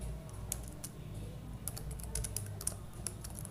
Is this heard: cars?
no